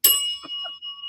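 A single bright bell ding strikes and leaves a thin ringing tone hanging, joined by a few faint softer sounds, with no talk over it.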